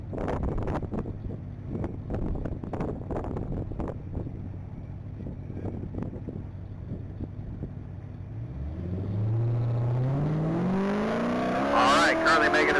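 A car on the Texas Mile top-speed track: a low, steady engine rumble with wind buffeting swells, then the engine note climbs steeply in pitch as it accelerates past, with a voice talking over the early part.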